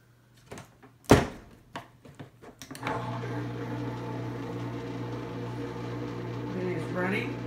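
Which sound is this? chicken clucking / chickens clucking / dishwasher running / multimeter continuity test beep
dishwasher running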